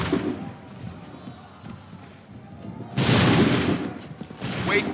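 Musket volley in Assassin's Creed 3, a sudden loud burst of massed gunfire erupting after a quieter stretch, with a second sharp crack near the end.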